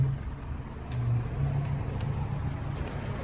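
A car with an engine warning light, otherwise in good condition, idles steadily at close range with a low, even hum and no talk over it.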